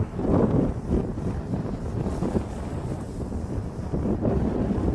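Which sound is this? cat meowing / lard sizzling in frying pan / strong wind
strong wind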